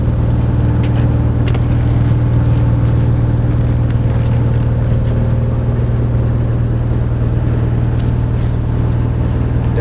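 Steady low diesel drone of a motor fishing boat for squid, Mina Jaya Sentosa 01, heard from the bow: constant engine hum with a strong low tone and faint knocks, unbroken throughout.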